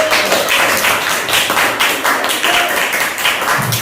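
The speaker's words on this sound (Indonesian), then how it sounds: "Silakan beri tepuk tangan terlebih dahulu." A class of children claps for a student group during a science lesson, with loud, rapid, irregular clapping that fills the room throughout, and faint voices underneath.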